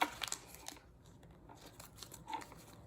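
Colored origami paper being folded into a turtle, with a few soft crinkles and creases near the start and light rustling afterward, quiet and close.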